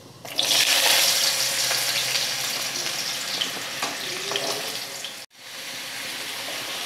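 Papaya pieces fry in hot oil tempered with nigella seeds. A dense, loud sizzle is heard throughout with occasional stirring scrapes. It cuts off sharply near the end, then resumes more quietly.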